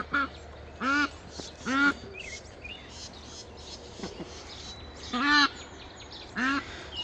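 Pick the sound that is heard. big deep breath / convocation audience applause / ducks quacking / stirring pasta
ducks quacking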